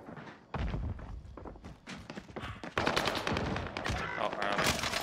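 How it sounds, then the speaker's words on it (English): Rapid video game gunfire from an online shooter, with dense bursts of automatic shots and heavy thuds that grow louder and more continuous toward the end, under occasional voice. "Getting shot at."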